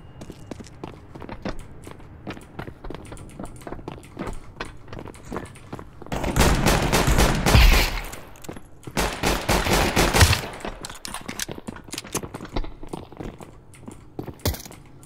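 Gunfire in Counter-Strike 2, including R8 revolver shots, heavy bursts of shots in a firefight amid footsteps and other game noise, loud through the middle and quieter before and after.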